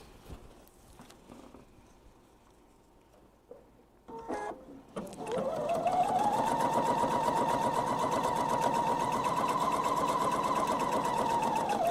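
A sewing machine edge stitching fabric for a thread catcher starts after a few clicks and handling sounds, then runs in a steady, fast, close mechanical whir of rapid stitching through to the end.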